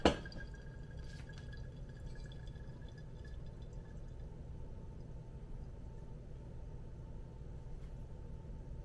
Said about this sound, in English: I got my boiling water here, and I'll be using the hottest water,